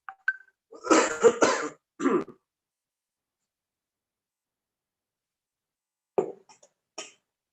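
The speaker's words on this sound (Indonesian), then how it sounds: "Maaf, saya lagi agak batuk." Several short, harsh coughs in a quick burst near the start, then a pause of silence before a couple more brief coughs close by.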